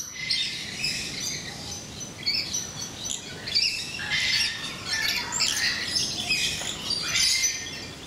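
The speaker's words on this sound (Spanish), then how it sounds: "Loros blancos." White parrots in a cage at a bird-control seminar in Malaysia squawk and chirp continuously, harsh overlapping calls from several birds fairly close, with no talking.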